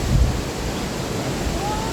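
Strong wind gusting at a waterfall campsite in Kamphaeng Phet, a steady broadband rush with a louder gust early on and no speech.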